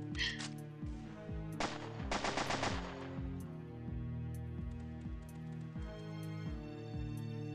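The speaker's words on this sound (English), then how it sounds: "With the freaking sniper rifle." Video game gunfire in an airport team deathmatch, a series of sharp shots over a steady tonal game soundtrack, with a dense cluster of bursts in the middle.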